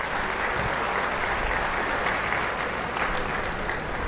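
A large crowd at a Telangana BJP state executive meeting claps in support of a resolution, in loud, continuous, dense applause that fills the hall evenly from start to finish.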